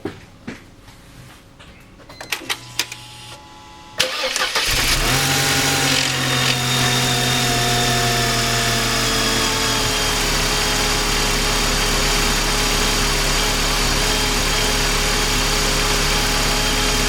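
After quiet clicks and rustling, a car engine cranks and fires up following replacement of the harmonic balancer, radiator fan and crankshaft seal, then settles into a loud, steady idle with a constant hum close by.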